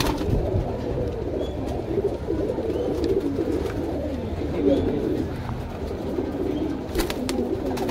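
Saharanpuri pigeons coo in a loft during the rainy season, soft throaty murmurs overlapping steadily and close by, with faint background noise.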